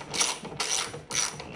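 A ratchet wrench loosens a bolt on a Mazda RX8 gas pedal, giving three close, short bursts of dense clicking separated by brief pauses.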